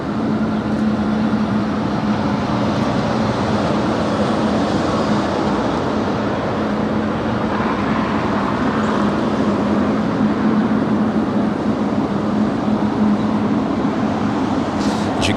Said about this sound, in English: it's the Airflight 777 making that final turn